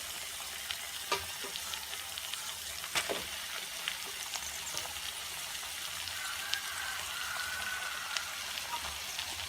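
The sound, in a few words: boiled noodles stir-frying in a pan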